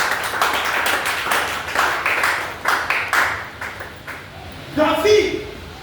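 A church congregation claps in a run of sharp, irregular bursts, with a spoken voice rising over the applause toward the end.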